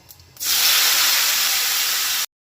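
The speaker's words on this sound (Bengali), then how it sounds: "ফোড়নটা দিয়ে এবার কুচনো টমেটোগুলো এর মধ্যে দিয়ে দেবো।" Chopped tomatoes go into hot ghee seasoned with panch phoron for a tomato chutney, setting off a sudden loud, steady sizzle that holds strongly for about two seconds before cutting off abruptly.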